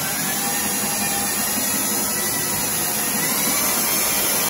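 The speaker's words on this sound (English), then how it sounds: "Now we'll take our step bit, we'll put it right in that same hole there, and start drilling it." A step drill bit bores a hole in an arcade cabinet, making a loud, continuous, harsh whirring grind that stays steady for several seconds with no pauses.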